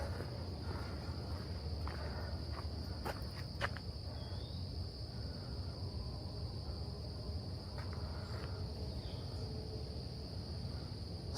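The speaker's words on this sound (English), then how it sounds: "Still hear the insects of the night." Night insects chirping in a Manhattan city setting near Central Park, a steady high continuous trill that carries through the whole stretch, with a few faint clicks and footsteps nearby and low city hum beneath.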